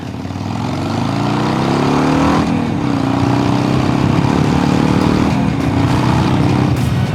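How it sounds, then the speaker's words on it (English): A Harley-Davidson Sportster motorcycle engine pulls hard with a deep, continuous, loud roar that climbs in pitch as it accelerates, recorded up close while riding, with rushing wind mixed in. "Let's give it a pull with the helmet open so you guys can hear it."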